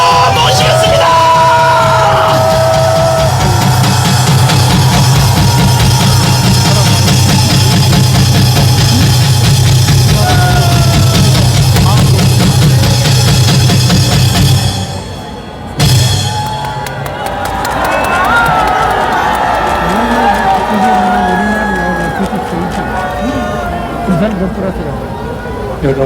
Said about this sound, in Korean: 박조준 목사님을 큰 박수로 모시겠습니다